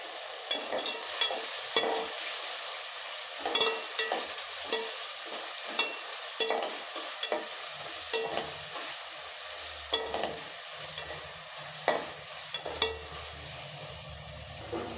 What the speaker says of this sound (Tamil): இது வதங்கிட்டு இருக்கும்போதே ரெண்டு தக்காளி கட் பண்ணி வச்சுருக்கேன் இப்போ அதை சேர்த்துடலாம் அதையும் சேர்த்து நல்லா வதக்கி விட்டுருங்க